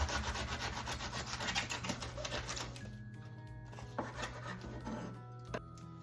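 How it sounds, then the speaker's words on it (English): Knife cutting the top off a fresh artichoke, a close, quiet run of rapid crunching and rubbing that thins out midway, with no talk. "So I'm going to cut off that about 1 inch off of the top,"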